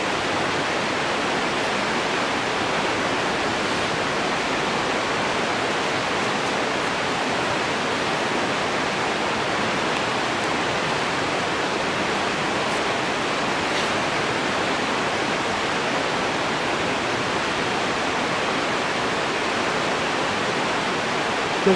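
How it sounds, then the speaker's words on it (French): A waterfall and trickling stream in a natural setting give a constant, broad rushing wash of water, steady and even throughout with no voices. "à part les cascades, le bruit de l'eau qui ruisselle et quelques branches qui bougent"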